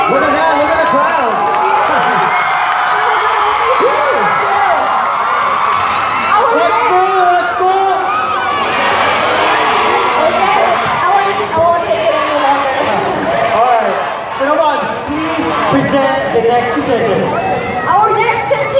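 Festival crowd at the 2016 Lawig Festival cheering and shouting as a contingent is introduced; a dense, loud, continuous roar of voices with whoops and chatter that persists throughout.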